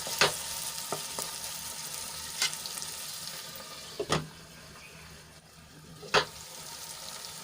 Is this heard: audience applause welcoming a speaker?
no